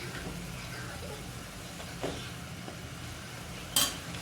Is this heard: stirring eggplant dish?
yes